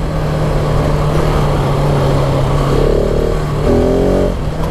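A 2019 KTM 690 Enduro R single-cylinder dual-sport motorcycle is ridden at steady speed, its engine humming loudly over heavy wind noise, with a couple of throttle changes shifting pitch near the end.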